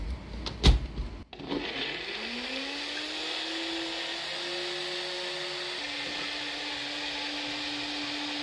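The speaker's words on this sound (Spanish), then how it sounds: "esta licuadora muele muy bien" A kitchen blender whirs steadily while grinding green pozole ingredients with chicken, a brief clatter of items being added at the start before the motor settles into a continuous high hum, shifting pitch slightly once as the load changes.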